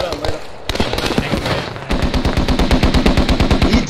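Rapid carbine gunfire in the World War II shooter game Post Scriptum, loud close bursts of sharp repeated shots, ending in a fast steady string, with a voice talking over the first part.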